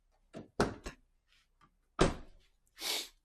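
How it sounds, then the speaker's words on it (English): The door of a 2007 Honda Civic Si with a body kit is handled close up, giving latch clicks and several solid thunks as it opens and shuts. "Door closes, opens, no problem."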